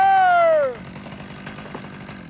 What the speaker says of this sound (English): Just a little more sawing and he's almost there.